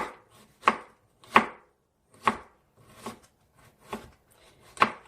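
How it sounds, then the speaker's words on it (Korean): A kitchen knife slices peeled burdock root thinly on a cutting board, seven crisp separate chops at an irregular, unhurried pace, close and clear with quiet gaps between. "이렇게 얇게 다 썰어 주세요"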